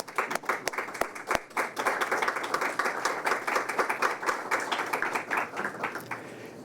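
A seated audience at an oversight conference applauds task force members and outside panelists, a steady round of clapping with some sharp individual claps standing out, fairly quiet and distant.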